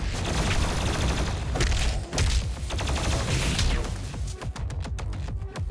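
Heavy gunfire and explosive booms fill a Doom Eternal fight, loud and continuous with rapid shots and crashing impacts throughout.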